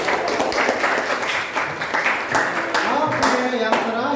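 Students in a classroom during a Japanese language lesson clap together in a loose, uneven burst of applause, with voices talking over and between the claps.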